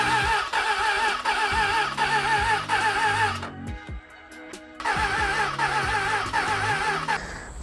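A Suzuki Bandit 600 motorcycle with freshly cleaned carburetors, choke on and a weak battery, idles roughly up close with a pulsing rhythm, cuts out briefly mid-way, then catches and runs again.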